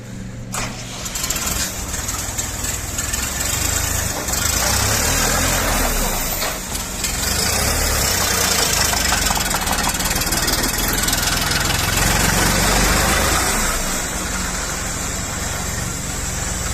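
A small DW mini tractor engine runs steadily and loudly throughout, a continuous rumbling drone with a slight knocking texture, close by.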